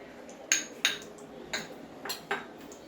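A spoon scoops ghee from a kadai for Gujarati gundar ladoo, giving five sharp metallic clinks, spaced irregularly and close by, over a quiet background.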